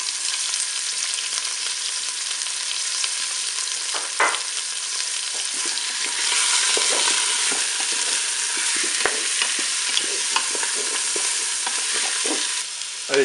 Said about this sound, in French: je vais pouvoir faire revenir mon rôti. Je vais ajouter mes morceaux d'oignon.